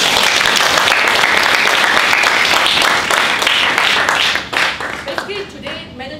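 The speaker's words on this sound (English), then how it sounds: "Shall we give her a round of applause?" Audience applause after an impromptu speech at an evaluation session, a dense, loud, sustained clapping that thins out toward the end, with some voices over it.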